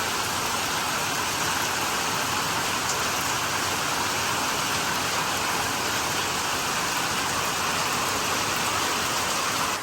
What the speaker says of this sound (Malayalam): നല്ല ശക്തമായ മഴയാണ് ഞങ്ങളുടെയൊക്കെ, അടിപൊളി മഴ.